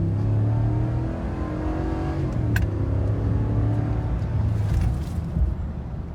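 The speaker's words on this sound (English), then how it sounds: "0 to 60 launch test" A 2019 Ram 1500 Laramie Limited pickup with a 5.7L V8 launching off the converter in a 0-60 run, its engine droning loud and steady as it pulls hard through the gears, close to the microphone with no speech.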